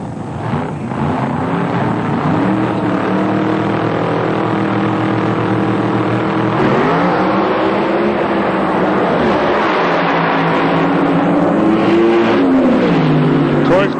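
Blown alcohol NHRA drag racing cars roar down the strip at a 1997 nationals event, a loud, continuous engine drone with rising and falling pitch sweeps, while an announcer talks over it throughout.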